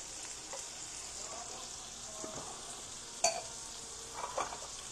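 Zucchini sautés with garlic in rendered guanciale fat, giving a soft, steady sizzle with occasional light utensil clinks against the pan.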